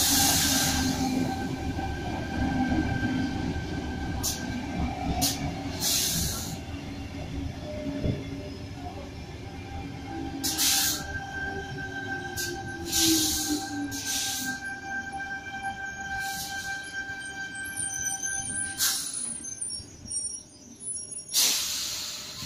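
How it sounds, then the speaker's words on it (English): A Sydney Trains suburban passenger train on a Liverpool via Bankstown service pulls out of Erskineville station from platform 2, its steady rumble and motor hum rising with faint wheel squeal, joined by sharp hissing bursts near the end. "departing on platform 2 at Erskineville for a Liverpool via Bankstown service"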